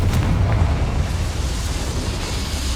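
A Confringo blasting spell explodes in the Hogwarts Legacy video game, giving a loud, deep, rumbling boom that rolls on and slowly fades over a few seconds.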